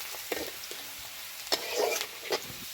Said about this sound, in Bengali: এগুলো লাল লাল করে ভেজে দিতে হবে।